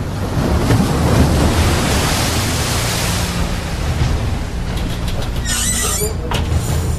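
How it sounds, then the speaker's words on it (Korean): Loud, continuous rush of high ocean waves around the Antarctic Circle at 60 degrees south, heard aboard the Korean icebreaker research ship Araon, with crashing water and a steady roaring wash, no voices. "남이 60도 남극권에 진입하면서 갑자기 파도가 높아지기 시작했다."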